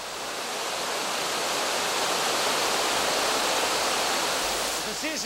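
Water from a cascade pours down steadily in a decorated Roman-style grotto nymphaeum in a Mediterranean garden, a loud, continuous roar with no breaks, close by, and no voices over it.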